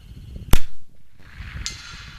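A Savage Mk II FV-SR .22 rifle fires once at a target 200 yards downrange, giving a sharp crack, with a faint distant impact sound about a second later and quiet ambient noise around it.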